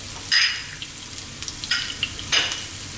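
Onions and garlic hit hot olive oil in a pan, giving bright crackling sizzle bursts that flare and fade over a soft frying hiss, close up and without talk.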